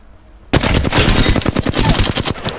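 Gunfire from a green-tier gun in the video game Apex Legends: a loud, rapid burst of shots opening abruptly after a brief quiet start, then continuing as a dense, slightly uneven automatic rattle.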